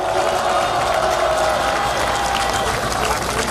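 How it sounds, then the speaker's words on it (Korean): Applause from a crowd at an outdoor national rally, a dense continuous roar of clapping and cheering held steady throughout, loud and fairly close, with voices mixed into the crowd noise. "다시 한번 수고했다는 의미에서 힘찬 응원의 박수 부탁드립니다."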